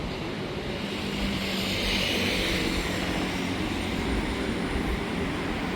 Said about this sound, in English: There are some flights.